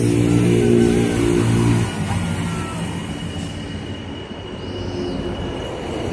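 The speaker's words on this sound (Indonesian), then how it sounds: "nah itu ada LRT yang lagi melintas" A light rail train in Palembang, Indonesia, rolls past nearby with a steady rumble and faint wheel squeal, its sound slowly easing as it moves along.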